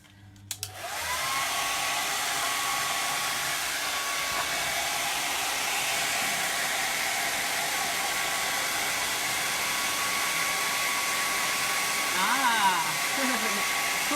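A hair dryer blowing on freshly painted paper pumpkin cutouts, switching on after a couple of clicks and then roaring in a steady, close, unbroken hiss for the rest of the stretch.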